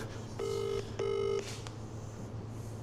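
Two steady telephone tone bursts, dialing or ringback tones, sound close and clear. Each lasts about half a second with a brief gap between them. A short click follows, then quiet room noise.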